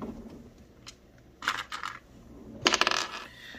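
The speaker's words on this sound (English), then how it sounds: "We roll the dice for it." Dice rattle and clatter across a hard surface in a game, a few sharp clicks and then a louder tumbling burst near the end, close and with no talking.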